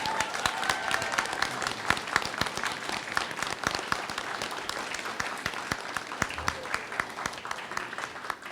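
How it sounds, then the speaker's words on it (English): Audience applause for college staff at a Northwest College graduation ceremony, a crowd clapping steadily with distinct individual claps popping through, sustained for several seconds. "if we could just give a round of applause for the caring Northwest College staff"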